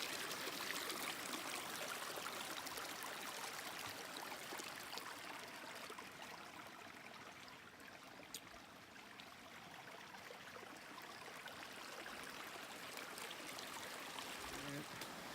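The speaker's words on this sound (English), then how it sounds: "A nice little river here." A small river flows along a backpacking trail in Algonquin's highlands, a steady soft rushing and trickling that fills the whole stretch at low level with no talk over it.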